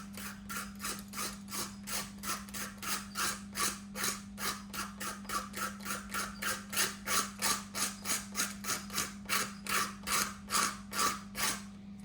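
Fake engine part for a 1/10 scale drift car being shaved down by hand, a long run of regular rasping strokes, roughly two per second, close and steady over a constant low hum, with no voices.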